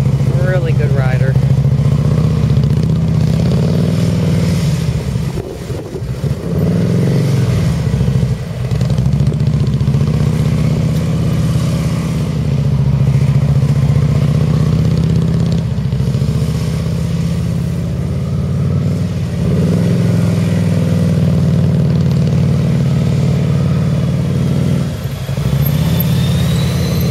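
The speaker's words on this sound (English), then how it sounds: "Here comes Michael on his road glide" A Harley-Davidson Road Glide motorcycle rumbles through an offset cone weave, its engine droning loud and steady with brief throttle dips. Voices are heard underneath.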